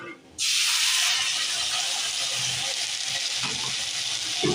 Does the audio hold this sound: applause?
no